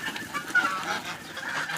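A flock of geese honking steadily over a dense, noisy background, with repeated overlapping calls close by, at a farmyard among ducks and chickens.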